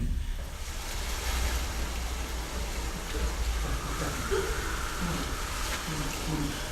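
Ocean sound effect for a stage play: a steady broadband wash of surf and waves rolling on without pause, with wind-like hiss over low rumble and some faint murmured voices beneath.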